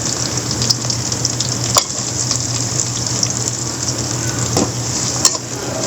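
Chopped onion hits hot mustard oil with whole spices, frying in a continuous close sizzle and hiss while a duck bhuna is cooked. A few sharp clicks of stirring punctuate it, with no talking.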